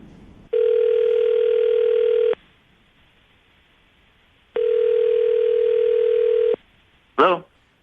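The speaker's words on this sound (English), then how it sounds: "we're going to call him right now, see if we can get him on the phone" A telephone call rings out with two long, steady ringback tones separated by silence, followed by a brief clatter as the line picks up.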